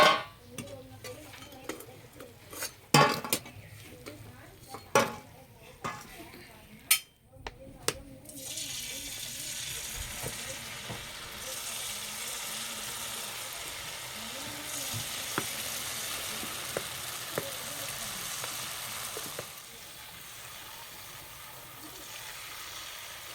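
Jalebi sizzles in hot oil in a home kitchen, a soft steady frying hiss that starts after several sharp knocks and clatters and continues evenly, with talk heard at times over it.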